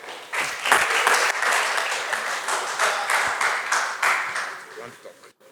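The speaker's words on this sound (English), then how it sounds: "Please clap for her." An audience claps at a leadership session at ACity. The applause is steady and fairly close, fading toward the end, with voices mixed in underneath.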